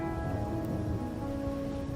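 Steady rain in the video game Wuthering Waves, an even hiss of falling drops holding at a constant level over a soft low rumble, with no voices.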